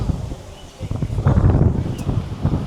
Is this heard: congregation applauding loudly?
no